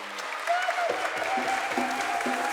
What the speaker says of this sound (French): On applaudit bien fort pour